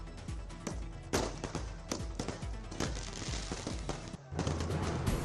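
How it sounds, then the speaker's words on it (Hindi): Fireworks go off in celebration of an astronaut's successful return, a dense run of sharp cracks and pops with loud bursts and crackling that keep going throughout. "आतिशबाजी कर लोगों ने जश्न मनाया।"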